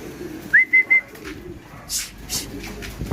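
A racing pigeon coos in three quick, clear notes near the start, followed by fainter rustling and flapping or scuffling sounds in a quiet loft.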